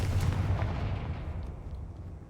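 A Confringo fire spell bursts in Hogwarts Legacy: one heavy, booming blast up front that rolls off into a fading rumble, loud and close.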